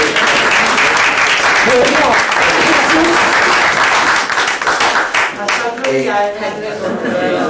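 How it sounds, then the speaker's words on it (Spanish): An audience claps at a cultural debate in Asturias, loud sustained applause that thins and fades toward the end, with voices chatting and chuckling through it. "Un aplauso, gracias."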